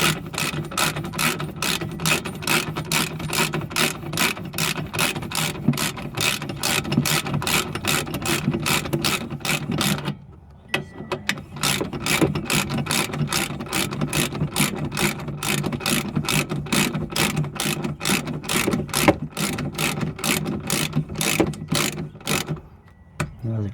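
Repeated ratcheting clicks from a socket wrench snugging a bolt on a 2010 Nissan Versa rear gas shock, a steady close rapid rhythm with one brief pause midway.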